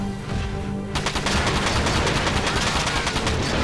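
Double-shot weapon fire from the video game Front Mission 4: loud, rapid bursts of gunfire that start about a second in and keep rattling steadily to the end, layered over game background sound.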